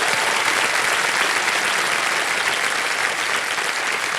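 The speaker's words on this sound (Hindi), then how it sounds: "एक बार फिर तालियां बज जाएं सुधीर कुमार जी की" Studio audience on the KBC Season 16 game show breaks into loud, continuous applause, a thick wash of many hands clapping without pause and no talking on top.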